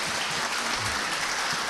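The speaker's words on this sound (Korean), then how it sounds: "박수 한 번 더 치실까요?" A brief burst of steady audience applause at a finance research lecture, a dense, even wash of clapping from a seated crowd that fills the whole short moment without a break.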